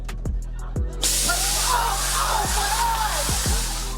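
A spray tan booth sprays in a loud continuous hiss, with several short thumps just before it and a few more scattered through the spray.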